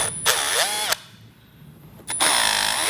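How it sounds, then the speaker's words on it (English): A power drill whines loudly at close range, drilling holes to nutsert size in Harley-Davidson speaker lids, pausing for about a second before revving up again; a short bout of drilling, no voices. "We're just drilling this to the size of the nutsert."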